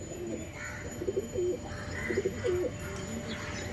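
Punjabi Malbai pigeons coo close by in short repeated bursts, a few distinct rolling calls spaced about half a second to a second apart over a quiet steady background hum.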